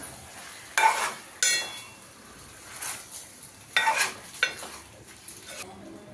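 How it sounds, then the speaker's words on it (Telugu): A spoon stirs green chicken curry, Hyderabadi style, in a pan over a medium flame, giving several separate scraping strokes with quieter simmering between them, close and clear with no talk. "ఒకసారి కలుపుకుందాం"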